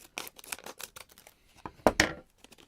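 Quick snipping of scissors and crisp rustling of packaging, a run of sharp cuts close by with a louder tearing burst near the end.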